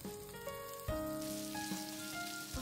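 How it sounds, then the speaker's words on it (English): Tofu and pork hamburger steaks sizzle in a frying pan over medium-low heat, a steady close crackle with soft background music and no talk. "I grill them for 5 minutes over medium-low heat"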